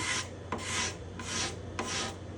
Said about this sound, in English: how quickly a sharp scraper can remove this excess wood.